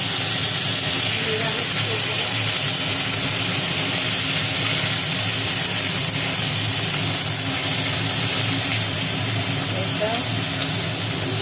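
Onion paste dropped into hot oil over fried potatoes and whole spices, raising a loud, steady hiss and sizzle that runs unbroken for over ten seconds.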